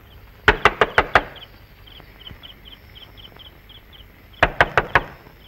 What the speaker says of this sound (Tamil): யாரோ கதவு தட்டுறாங்கம்மா